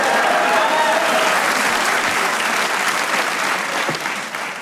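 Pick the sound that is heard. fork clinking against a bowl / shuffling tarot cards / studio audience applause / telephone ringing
studio audience applause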